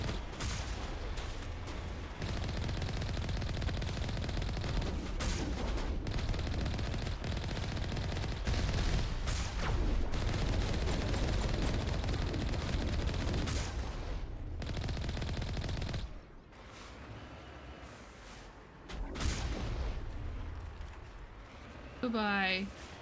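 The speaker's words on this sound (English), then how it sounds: "definitely sounds like a gun" Gunfire in the sci-fi role-playing shooter Mass Effect 1, with a dense stretch of repeated shots and blasts running under a talking voice, then thinning out into a few separate bursts.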